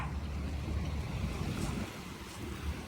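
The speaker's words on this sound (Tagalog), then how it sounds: "Ito yung ating dagat." Sea waves wash steadily under a bridge on a clear morning, a broad continuous roar with heavy wind buffeting the microphone and no voices.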